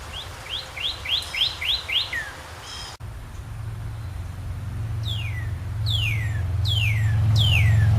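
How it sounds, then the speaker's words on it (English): A blue jay gives a rapid run of short rising notes, then after a brief break a few louder, sweeping downward calls, while a low droning hum grows steadily in the background. "There's a blue jay."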